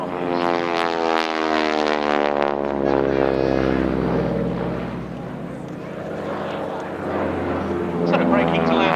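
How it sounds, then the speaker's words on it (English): A Harvard propeller aircraft rolls for takeoff at an autumn air display at Duxford, its radial engine and propeller giving a loud, steady, throbbing drone with strong harmonics that surges near the end; people talk over it. "on the roll, ladies and gentlemen, imminently taking off"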